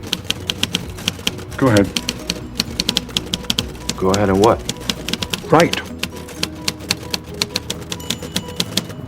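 Keys on a typewriter clatter in an irregular, close rhythm of sharp individual strikes, continuing under brief lines of conversation between two people.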